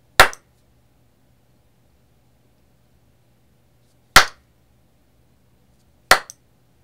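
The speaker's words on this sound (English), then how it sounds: "Or maybe I should clap." Three sharp, isolated hand claps in a quiet room, each a single crisp crack, spaced about four and two seconds apart, used to trigger an Arduino sound sensor that switches an AC bulb.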